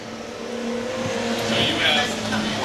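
Pro-4 Modified race cars run a speedway heat on a loose track, engines roaring continuously with a building surge, loud and somewhat distant.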